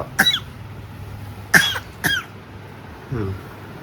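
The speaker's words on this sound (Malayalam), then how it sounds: "എന്തിനാ കാറിയത് തൊണ്ടോണ്ട്" A child coughs a few times in short bursts, then clears the throat once, close by with quiet pauses between.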